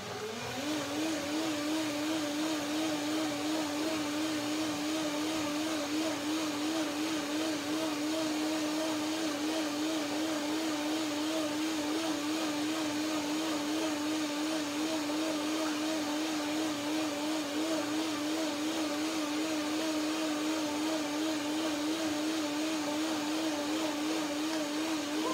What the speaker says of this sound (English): Blender dance number two.